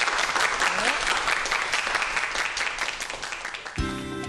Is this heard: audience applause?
yes